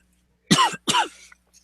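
Two quick, harsh coughs close to the microphone, one right after the other, followed by silence.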